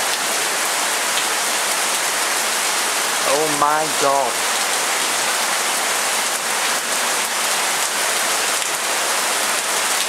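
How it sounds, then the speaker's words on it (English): Heavy tropical rain pours in a dense, loud, constant roar on a rainy day in Thailand, with a brief spoken exclamation in the middle. "Rainy day in Thailand. Could it be that it's raining all over the world?"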